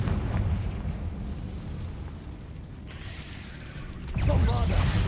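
Confringo spell blasts in Hogwarts Legacy, a rumbling fiery explosion with roaring, crackling bursts during a combat walkthrough, loud and close, swelling again near the end.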